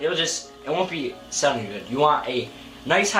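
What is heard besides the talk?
None of the usual background noises is heard.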